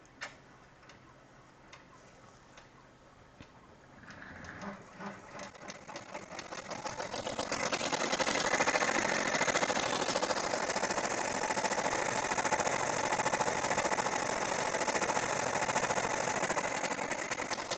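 An embroidery machine starts with a few ticks, then settles into a fast, steady mechanical whir and clatter of rapid satin stitching that continues evenly.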